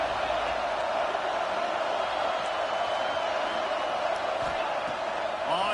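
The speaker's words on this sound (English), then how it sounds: "how nice is it to have the home crowd going absolutely bananas?" Home crowd at a football game roaring in a broad, sustained wash of cheering and whooping, loud and continuous with no break.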